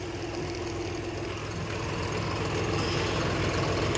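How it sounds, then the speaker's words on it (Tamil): A John Deere 5405 CRDi tractor diesel engine idles steadily up close, a dense, loud rumble with a broad noisy wash and no voices. "CRT engine."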